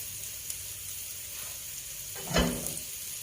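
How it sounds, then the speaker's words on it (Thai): Thai curry paste is stir-fried in a hot pan for a fish curry sauce served over rice noodles. A steady hiss of sizzling runs throughout, with a brief louder scrape of stirring near the end and no talk. "เดี๋ยวฝันจะผัดพริกแกงนะคะ"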